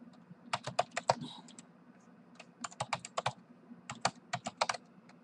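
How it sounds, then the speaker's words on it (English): Computer keyboard keys are typed in quick bursts of crisp clicks, with short pauses between groups of strokes, close and fairly quiet over a low steady hum. "you just type in your domain,"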